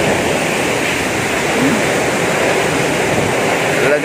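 Strong typhoon wind roars in a steady, loud broadband rush with no break, like a continuous howl sweeping over a house during the storm.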